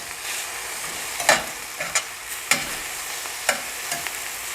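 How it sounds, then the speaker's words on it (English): Beef stir fry in sesame oil sizzling in a pan while being stirred, a steady hiss broken by several sharp clanks and scrapes of the utensil. "I'm going to give this a good stir"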